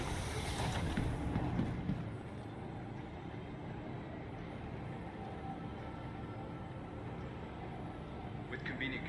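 A tram pulls into an ArcCorp station in Star Citizen, a steady rail rumble and rolling hum filling the scene, with a louder burst at the start settling into continuous mechanical drone.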